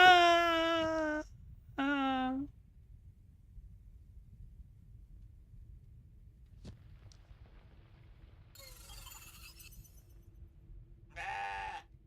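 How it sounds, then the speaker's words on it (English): A goat in the video game CrossCode lets out two loud, close bleats, then falls quiet over a faint hum before giving a third, shorter bleat near the end. "Playful goat noises."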